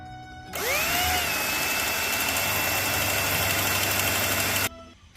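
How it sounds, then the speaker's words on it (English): A power drill bores out rivets on the A-pillar of a FIAT Spider, one steady high-pitched whine that spins up and runs for about four seconds before stopping, close and loud. "all the rivets are drilled out"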